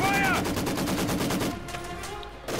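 MG42 machine gun fire in a World War II strategy game, a rapid dense burst of shots for about a second and a half that then trails into quieter distant battle noise.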